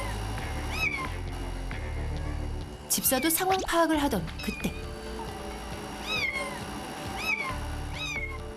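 A kitten trapped behind a wall meows in a few separate, clear cries spread across the stretch, while a person speaks briefly in the middle over low background noise.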